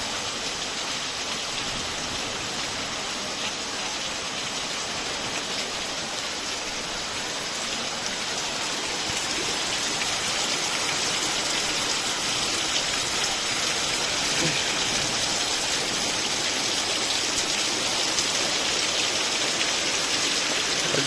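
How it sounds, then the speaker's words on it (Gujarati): Heavy monsoon downpour in Palitana, a dense, steady roar of rain pounding surfaces that holds at an even loudness throughout, with no voices and no clear thunderclap standing out. "પાલીતાણામાં મુશળધાર વરસાદ હો ભાઈ ગાજવીજ સાથે વરસાદે તો ભૂકા કાઢી નાખ્યા"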